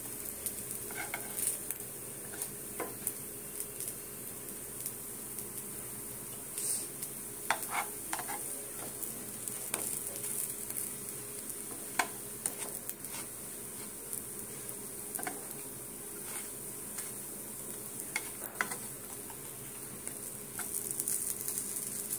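Chana dal kebabs sizzle steadily in shallow oil in a pan, a constant close frying hiss with occasional scraping and tapping as they are turned, no voices.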